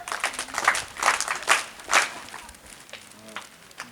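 A crowd at a community association event in Ireland claps in a loose, uneven patter of hands, several stronger bursts standing out before the applause thins and fades, with faint voices underneath.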